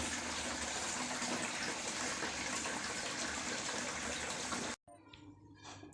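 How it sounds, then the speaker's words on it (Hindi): Chopped mustard greens being washed in a basket under a steady, loud gush of running water that stops abruptly near the end, followed by a few faint splashes and drips. "मैं इनको कटिंग करने के बाद ही टोकरी में डाल के अच्छी तरह साफ़ पानी से धोऊंगी"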